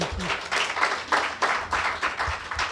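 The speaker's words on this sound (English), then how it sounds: "Let's give him a round of applause, please." Conference attendees applaud after a presentation on ccTLD and TLD management. Clapping comes in uneven bursts from a modest crowd in the room, moderately loud, with no speech over it.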